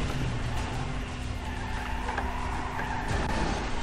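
A car drives out in the video game GTA Online, its engine giving a continuous droning roar with a faint squeal of tires, steady and close throughout with no voices.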